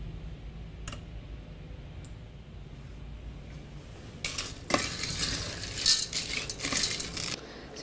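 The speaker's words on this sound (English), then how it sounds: "So we just stir the chocolate" Callebaut chocolate sauce is stirred in a saucepan, with soft scraping and a few sharp utensil clicks against the pan, growing busier and louder toward the end against a quiet kitchen background.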